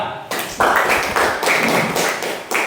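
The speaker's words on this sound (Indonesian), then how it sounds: "berikan aplaus pada kelompok 2" A classroom of students applauds a presenting group, a short burst of dense clapping that starts abruptly and holds at a fairly even level for a couple of seconds, close and loud, with no talking over it.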